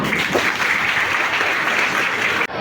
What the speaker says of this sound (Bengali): একটা করতালি সবার জন্য